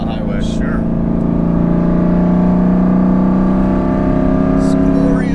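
Aston Martin engine pulling onto a 65 mph highway, a loud sustained roar with rising harmonic drone heard from inside the car, steady and powerful throughout.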